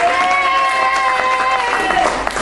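A church congregation claps and cheers in praise, a loud dense wash of applause and voices filling the room, with speech and sustained singing-like tones mixed in.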